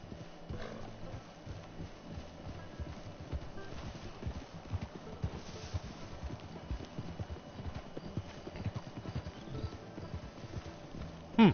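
Zebra hooves clip-clop in a Red Dead game, a faint, steady stream of soft hoof beats over low ambient background, with a brief louder burst at the very end.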